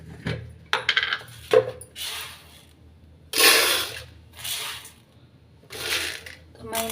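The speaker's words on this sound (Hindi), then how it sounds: "तो मैं इन दालों को इसमें फिल कर लेती हूँ" Dry lentils, including split chana dal, are poured into a storage container at home, heard as several rattling, hissing cascades of grains, each a second or so long, separated by quiet gaps with a voice faintly speaking.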